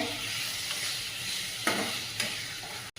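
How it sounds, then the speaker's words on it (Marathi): Chopped tomato goes into sautéed onions in a pan, giving a steady close sizzle with a couple of sharp stirring scrapes, and no voice. "कांदा चांगला परतला गेलाय तर त्यामध्ये टाकून घेत आहे टमॅटो"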